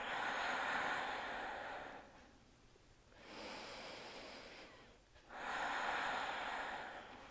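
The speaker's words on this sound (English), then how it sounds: "Keep coming back to slow, deep breaths." Slow, deep breathing during gentle chair yoga, three long airy breaths with soft pauses between them, close and fairly quiet with no talking.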